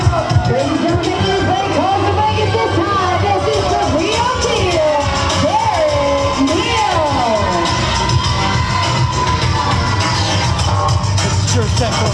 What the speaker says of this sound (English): And the fans are booing.